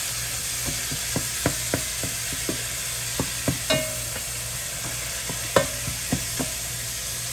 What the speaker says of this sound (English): put it into that hot olive oil and let it start sauteing